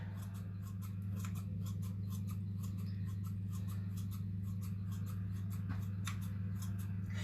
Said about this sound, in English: Scissors, little bit of choppity chop.